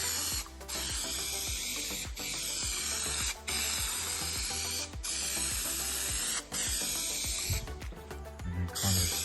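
Spray adhesive hisses from a can onto a car headliner in long, loud bursts, each broken by a brief pause, with a faster run of short sprays near the end.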